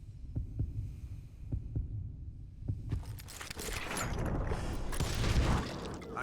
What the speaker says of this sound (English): So, hear the heartbeat, you can draw first?